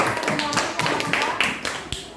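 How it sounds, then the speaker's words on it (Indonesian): A classroom of students applauding a group, with dense, continuous clapping from many hands, fairly close and loud throughout, with voices mixed in. "Kita beri tepuk tangan sekali lagi untuk kelompok 4."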